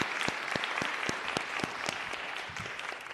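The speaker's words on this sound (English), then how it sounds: "If everyone could give him a round of applause." An audience claps at a county Board of Supervisors meeting, with a few sharp, distinct claps standing out over a moderate wash of applause that begins to thin toward the end.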